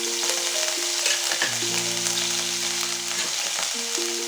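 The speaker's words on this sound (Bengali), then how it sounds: "এই তেলেই আমি প্রথমে যে আদা আর রসুন কুচি ছিল সেগুলোকে আমি দিয়ে দেবো" Chopped garlic and ginger frying in hot oil for a chilli soybean dish: a steady, dense sizzle throughout, close and even, with soft background music and no talk.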